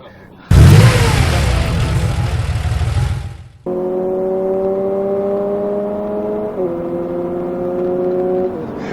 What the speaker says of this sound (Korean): 2부에서 UX, NX, RX의 제로백을 테스트를 해봤습니다